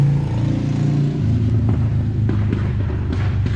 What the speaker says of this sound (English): hold up, motorcycle.